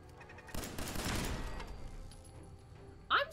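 A burst of rapid pistol gunfire from a 10mm handgun in the video game Fallout 4, a loud cluster of shots in the first second or so that fades into quieter sounds, then a brief voiced sound at the end.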